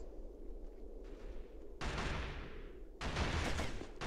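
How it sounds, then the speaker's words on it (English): Gunfire in the Killzone video game crackles in bursts over a rumbling game soundscape, with dense volleys swelling loudly midway and again near the end. "I hear gunfire, but I don't see nothing."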